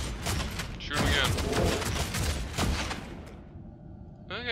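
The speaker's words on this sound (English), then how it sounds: "Start shooting again." Rapid bursts of gunfire from the video game Deathwatch: Tyranid Invasion, loud volleys of shots crackling in quick succession, then tapering off into a mechanical whir near the end.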